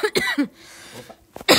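A small, light cough, a short burst or two, close by, followed by quiet and then a brief breathy sound at the end.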